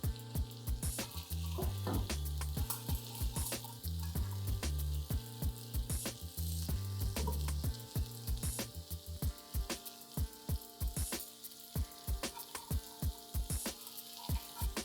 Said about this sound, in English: Let's flip these kebabs now.